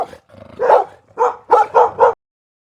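Dogs bark in a short burst, one low woof followed by a quick run of four sharp barks close by, then silence.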